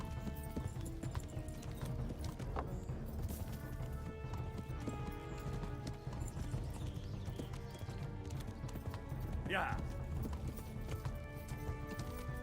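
A horse gallops steadily through the whole stretch in Kingdom Come: Deliverance, its hooves drumming in a continuous clip-clop rhythm. A brief whinny rises partway through.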